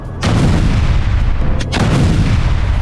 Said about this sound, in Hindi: गाजा में सुरंगों को धमाके से उड़ाया जा रहा है